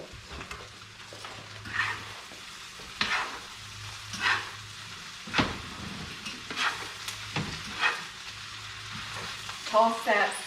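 Ramen noodles and cabbage sizzling in a hot pan as they are tossed, with a steady frying hiss broken by repeated scraping and stirring strokes, close and fairly quiet.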